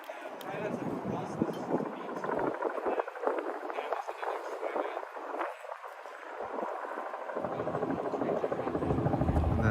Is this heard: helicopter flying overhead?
yes